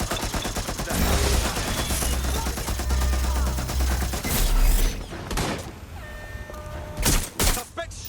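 Sustained automatic gunfire and explosive bursts in the video game Watch Dogs: Legion, loud and dense for several seconds, then thinning into a few separate sharp shots and bangs near the end.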